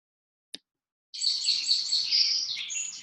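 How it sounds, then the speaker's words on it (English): A single faint click, then continuous bright birdsong from about one second on, several overlapping high chirps and warbles from the canopy of a redwood forest over a quiet background. "There are birds singing in the canopy"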